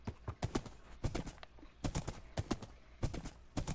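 Skeleton horses clip-clop across the ground in Minecraft, many hooves beating in quick, irregular bursts of close, sharp taps with brief pauses between clusters.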